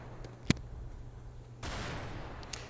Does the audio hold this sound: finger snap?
no